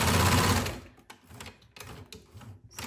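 A sewing machine stitching a side seam pocket runs in a fast, loud burst, then continues in shorter, quieter runs of mechanical stitching with brief pauses between them.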